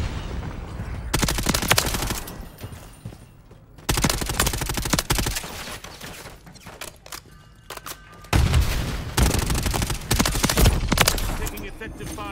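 Gunfire in the video game Warzone, repeated bursts of rapid automatic fire in loud clustered volleys separated by brief quieter lulls, close and intense, with game voice callouts faintly mixed in.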